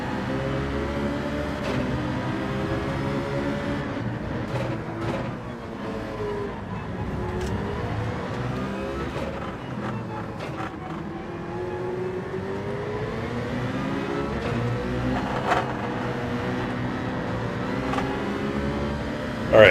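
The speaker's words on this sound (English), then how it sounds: "This car just launches over those 4 GTs." Race car engine in Gran Turismo 7 racing at Lago Maggiore, a steady loud whine rising and falling through gear changes with repeated upshift revving, continuous for the whole stretch.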